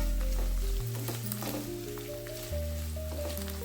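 Pieces of bitter gourd fry over a low flame in a pan, a soft, steady sizzle with faint stirring scrapes, quiet and close, no talking.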